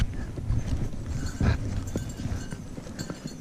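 Horses being ridden outdoors walk with irregular, muffled hoofbeats close by, with a louder thud partway through and rustling in the background, and no talking.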